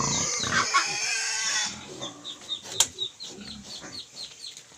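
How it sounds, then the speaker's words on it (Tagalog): Native pigs feed on fallen Indian mangoes in a rural yard, with soft grunts and chewing noises while chickens or ducks cluck and flap nearby. "ito yung ipakain natin sa ating mga native pigs"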